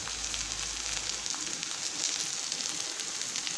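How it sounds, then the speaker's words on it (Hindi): Okra (bhindi) frying in a pan with salt, giving a steady, close hiss of sizzling oil that runs the whole time with no pauses and a brief low rumble at the start. "तो हम नमक डाल के इसको चला लेंगे, भिंडी को हम चला लेंगे।"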